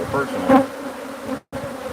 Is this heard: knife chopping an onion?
no